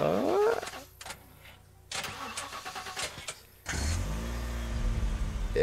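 In The Last Stand: Aftermath video game, a car with no fuel cranks and fails to start, repeated whirring starter bursts broken by pauses, then a low engine-like rumble settles in and holds.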